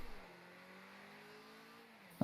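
Car engine from the video game Rocket League, a steady faint drone with a gently falling pitch, heard alone without talk.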